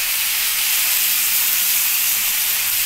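Potatoes and carrots fry in a pan, giving a loud, steady, broadband hiss of sizzling oil up close with no clear breaks or voices.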